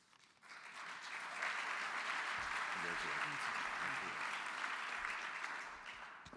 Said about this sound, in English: Let's give Governor Bullock another big round of applause.